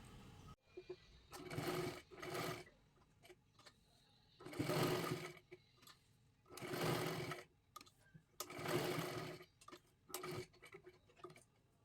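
A sewing machine stitches a blouse-piece cloth for a puja-plate cover in several separate runs, each burst of rapid whirring stitches lasting a second or two with quiet pauses between, close and clear with no talking.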